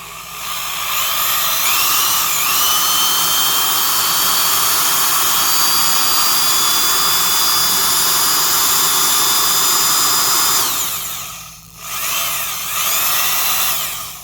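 A freshly serviced Skil 223 3/8-inch heavy-duty drill, with greased bearings and new brushes, runs steadily and loudly with a high whine, briefly slowing and dipping around the end before spinning back up.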